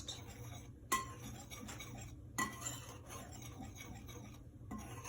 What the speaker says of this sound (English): we're just gonna whisk these ingredients together just until they're nice and mixed.